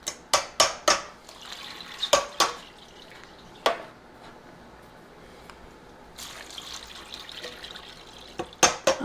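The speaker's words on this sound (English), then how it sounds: "we're going to take these beans over and pour them in a colander and drain all of them" Canned beans poured into a colander for a Southern three bean salad, with sharp drips and splashes of draining liquid in quick bursts, a quieter trickling stretch in between, and a final flurry of drops.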